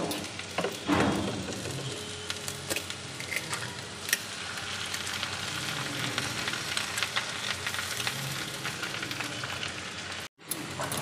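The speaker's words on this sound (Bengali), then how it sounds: "এখন আমি একটা ডিম ফাটিয়ে দেব।" Chowmin and vegetables frying in a pan with an egg cracked in for a home-style chowmin: a dense, steady sizzle like light rain, with a few sharper crackles near the start and a brief drop near the end.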